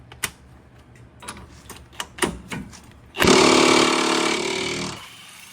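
Impact wrench loosening a 19 mm lower nut on a 2022 Lexus IS 350 suspension, a sharp loud burst of hammering whir lasting about two seconds after several clanks and taps of tools being fitted.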